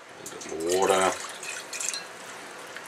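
Water is poured into a jar of pickled onions, a short gurgling fill lasting about a second with a faint trickle after, close up, and a voice speaking over it.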